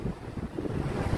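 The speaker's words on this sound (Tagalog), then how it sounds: "Lakas ng hangin oh." Strong wind buffets the microphone in a continuous low rumble, with gusty fluctuations throughout the brief moment.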